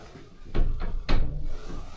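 A door being tried and found locked: two or three short wooden rattling knocks as the handle is pulled, close and fairly loud, with no speech.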